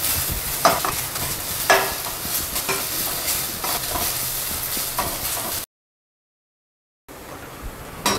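Okra sizzles steadily in a hot pan while a spoon stirs it with scraping clatters, then a short silent gap before the frying hiss resumes.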